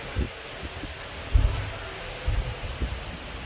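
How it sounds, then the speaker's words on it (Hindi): Heavy rain driven by strong gusting wind, a steady broadband wash with low rumbling buffets and bursts of wind noise on the mic, no voices. "बहुत जोरों से हो रही है बारिश"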